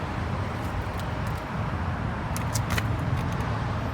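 A Ford F-150 with a 5.0 V8 idles after starting, a loud, steady low rumble heard close up, with a few faint metallic jingles over it and no talking.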